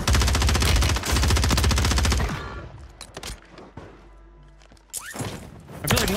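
MORS bolt-action sniper rifle in Warzone, a rapid run of loud, close gunfire that cuts off sharply into quieter game ambience, followed by a couple of softer thuds and another burst near the end.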